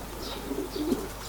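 Soft, low racing pigeon coos close by at a breeders' loft, a couple of brief murmuring calls over a quiet background hum.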